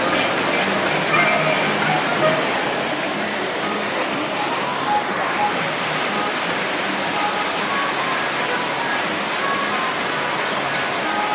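Rushing water on the River Rapids ride at Drayton Manor theme park, a steady broadband wash and splash that holds continuously throughout at close range, with faint park noise in the background.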